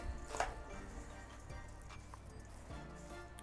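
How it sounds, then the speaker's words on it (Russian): A spoon mixes a thick cottage cheese batter for syrniki in a bowl, with soft irregular knocks and scrapes, close and quiet. "И теперь ложкой замешиваем массу на сырнике."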